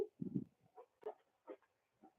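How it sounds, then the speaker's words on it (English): A dog barks in a few short, faint, scattered bursts somewhere indoors, fairly distant and quiet, with silence between each bark. "my dog barking here"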